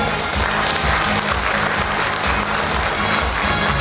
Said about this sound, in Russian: Ваши бурные аплодисменты, дорогие друзья